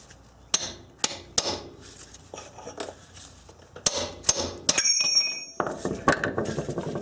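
A long chisel is struck with a hammer to drive out a stuck axle, producing sharp metallic clanks spaced irregularly, close and ringing, followed by a brief scraping shift and further quicker blows.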